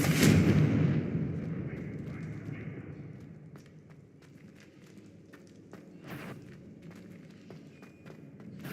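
A blasting-curse explosion in the Hogwarts Legacy video game opens with a loud broadband burst whose rumble fades away over a few seconds, followed by quieter scattered clicks and small impacts.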